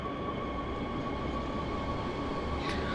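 A DB BR 422 electric multiple unit of eight cars pulls away in Train Sim World, with a steady loud rumble of motors and wheels and a faint rising whine.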